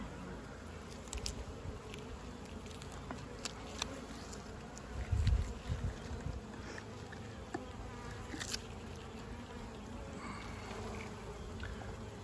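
Honeybees buzz steadily from an open hive packed with capped worker brood, a close, dense drone with occasional louder individual passes and faint knocks, with no talking.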